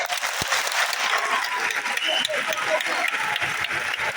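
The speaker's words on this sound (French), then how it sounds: "Pouvons-nous applaudir pour les chefs candidats?" An audience applauding at a gathering for candidate chiefs, dense clapping sustained throughout at a steady level, close and full.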